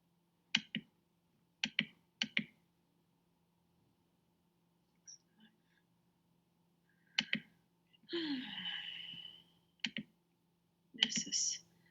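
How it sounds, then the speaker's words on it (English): Close computer mouse clicks come in quick pairs, spread across long stretches of quiet, with a short breathy rustle or sigh in the middle. "I need to click screen."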